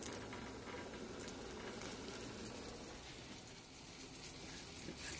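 Egg-dipped Jamaican breadfruit fries frying in a skillet make a low, continuous bubbling sizzle with fine crackling, steady throughout and fairly faint, with no voices.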